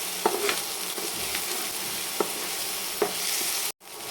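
Onion and ginger frying together in a pan for a jackfruit curry: a steady, close sizzle with a few sharp stirring clicks, no voices.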